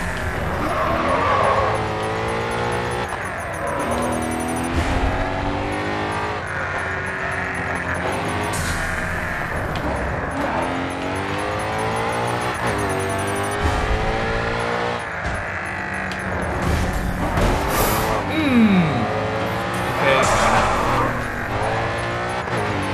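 Race cars in Grid 2 roar loudly and steadily through the gears, engine pitch climbing and dropping in repeated sweeps, with bursts of tire squeal and skidding in the corners.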